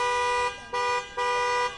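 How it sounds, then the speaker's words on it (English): Car horns from frustrated drivers at police roadblocks during presidential traffic, three sustained blares in a row with short gaps, loud and steady. "Frustrated drivers honked their horns at the LAPD roadblocks, unhappy with the presidential traffic."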